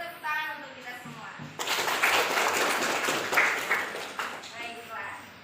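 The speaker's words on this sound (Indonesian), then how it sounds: "beri tepuk tangan untuk kita semua" Students in a grade 11 classroom break into applause after a brief spoken moment, a burst of clapping that swells quickly and then tapers off.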